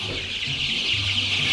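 Young chickens in an indoor brooder give soft, continuous clucks and low murmuring calls from close by, steady over a faint broadband background hiss.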